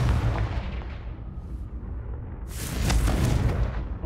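A Confringo blasting spell goes off in Hogwarts Legacy, a loud booming burst that rolls on with a second swelling blast and rumbling debris.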